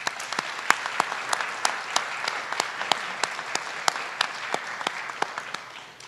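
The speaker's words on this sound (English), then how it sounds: "we want to congratulate her with a round of applause" An audience at a school board meeting applauds, steady moderate clapping with sharp individual claps standing out close by, continuing evenly without talk.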